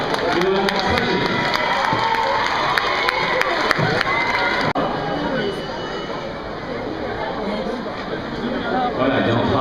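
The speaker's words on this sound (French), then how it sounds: "Applaudissements." A crowd at a Créteil shopping centre meet-and-greet cheers, claps and chatters to welcome a singer, with excited voices and shouts at first, then a looser murmur of conversation.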